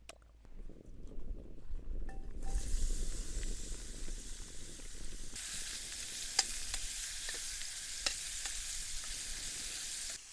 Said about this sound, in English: There's nothing like the smell of frying onions.